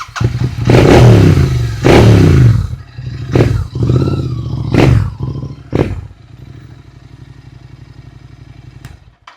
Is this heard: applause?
no